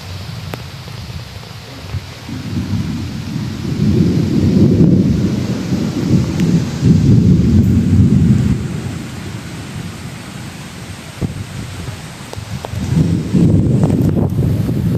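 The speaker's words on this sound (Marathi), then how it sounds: "जोरदार वारा आलाय पाऊस आला त्याच्यावर कडकडते विजा चमकतायत" Heavy rain pours with gusty wind buffeting the microphone, and deep rolls of thunder swell and fade across a sudden storm over rice fields in the Konkan, no voices present.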